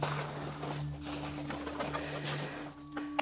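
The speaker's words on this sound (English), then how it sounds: "Those are some happy clucks." Soft clucking and low cooing from chickens nearby, scattered calls over a quiet background hum with a steady tone running underneath.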